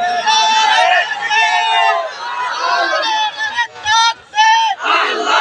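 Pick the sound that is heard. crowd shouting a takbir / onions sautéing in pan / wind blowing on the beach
crowd shouting a takbir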